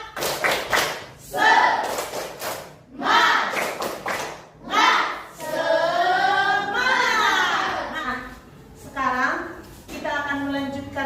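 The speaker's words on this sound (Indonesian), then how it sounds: "kita buat dulu tepuk semangat" Elementary classroom doing a rhythmic 'tepuk semangat' spirit chant: groups of quick claps and thumps alternate with children's voices chanting together, loud and close, repeated in several bursts.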